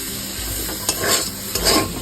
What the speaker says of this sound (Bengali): মাছটা দিয়ে সেম প্রসেসে মিডিয়াম ফ্লেমে আমি এখানে 5 মিনিট কষে নেব